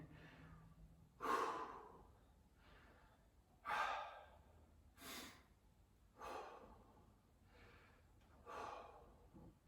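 Heavy breathing during recovery after an exercise interval, a series of about six loud, rhythmic breaths spaced a couple of seconds apart, close to the mic with quiet gaps between.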